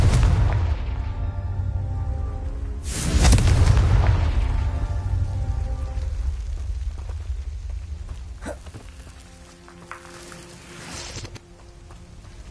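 Confringo explosion spell cast during a Merlin trial in Hogwarts Legacy, a loud booming blast that swells and rolls out over a dense game soundscape, followed by fading rumble and lighter magical tones.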